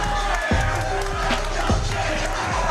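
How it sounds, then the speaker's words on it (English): A large crowd at a jiu-jitsu match roars and cheers continuously, with loud shouts and whoops rising over a dense wall of voices. "You hear that crowd, ladies and gentlemen? That's for a jiu-jitsu match."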